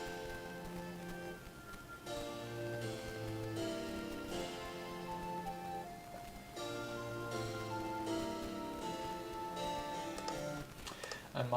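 MIDI harpsichord playing a figured bass part, plucky chords changing in a steady progression, quiet and somewhat distant.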